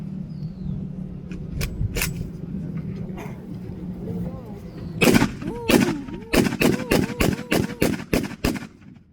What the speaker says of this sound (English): The M1918 Browning automatic rifle.